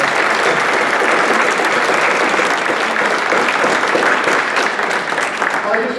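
An audience at a volunteering awards ceremony claps in a sustained round of applause. The dense, even clapping fills the room at full strength for several seconds.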